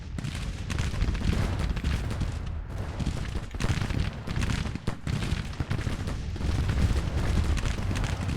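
Union artillery and massed gunfire in the Civil War strategy game Grand Tactician, a dense, continuous roar of booming cannon and crackling musketry rolling on without pause, loud and close throughout.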